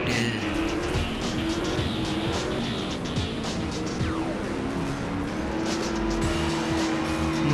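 Racing car in Need for Speed Most Wanted mobile gameplay: a continuous loud engine roar with squealing tires and skidding, steady and up close, with no clear impact standing out.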